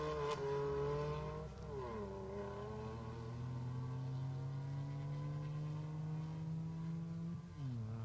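A rally car engine drones past at steady revs, its pitch sliding as it shifts gear, with a brief dip near the end before it picks up again.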